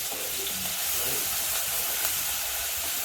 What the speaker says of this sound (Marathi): आता आपण त्यामध्ये हा ठेचा जो केलेला आहे तो टाकूया, मिरची आलं लसणाचा ठेचा टाकू, तो थोडासा थोडा परतून घ्यायचा